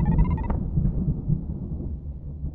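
Thunderstorm in the game My Beautiful Paper Smile: a deep, low rolling rumble of thunder that fills the whole stretch, following a short high musical tone at the start.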